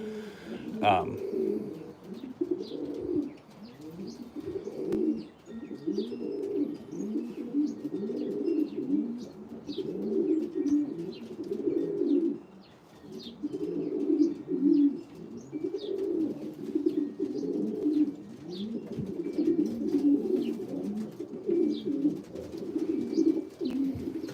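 Racing pigeons coo steadily in a breeding loft, a dense, continuous chorus of low throaty calls from several birds close by, with faint chirps above.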